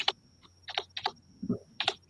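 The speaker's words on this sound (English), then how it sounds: "I hear him typing, maybe writing something on a card, a large word for us to read." Keys clack on a computer keyboard in a quick, uneven burst of close, crisp taps with short pauses, with no talk.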